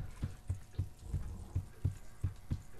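Heartbeat sound effect in the horror video game Dead Realm: a steady, loud double-thump pulse repeating about every half second, low and booming, with no talk over it.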